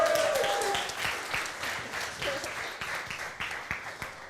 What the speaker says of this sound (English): Give her an extra special round of applause.